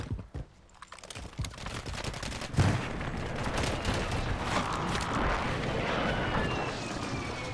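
Gunfire erupts in the video game Warzone 3 as a player shoots at an enemy: sharp shots at first, then a dense, sustained stretch of rapid firing and battle noise, loud and unbroken, with no talk.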